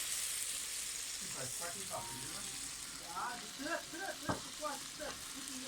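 Oil sizzling in a frying pan, a steady crackling hiss that carries through the whole clip while voices talk over it.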